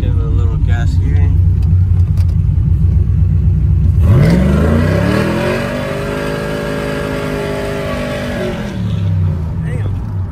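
A cammed 5.3 V8 fitted with a new exhaust idles with a heavy lope, then is revved up with a rising, sustained howl that holds steady before easing back to the choppy idle, loud and close throughout.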